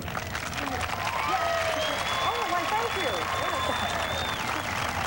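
Studio audience applause on a 1987 Pittsburgh morning television show, a continuous wash of clapping with talk and vocal sounds running over it.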